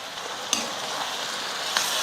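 Chopped tomatoes hit onions frying in a pan for Tamil tomato thokku, giving a steady close sizzle throughout with a couple of sharp stirring scrapes of the spoon.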